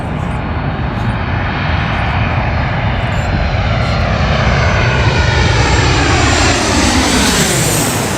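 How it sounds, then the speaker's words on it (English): An airplane coming in to land passes low overhead near Washington DC, its engine roar loud and steady throughout and slowly shifting in pitch as it goes over. "Here comes a plane."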